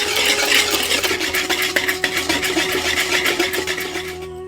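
Sponge cake batter of butter, milk and coconut oil being stirred steadily in a bowl, a continuous close scraping and swishing with repeated rhythmic strokes, no talking.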